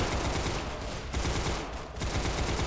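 Rapid Uzi submachine gun fire in a shooting video game, a loud sustained automatic stream broken by two brief pauses between bursts, with no talking over it.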